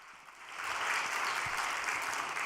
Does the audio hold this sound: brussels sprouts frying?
no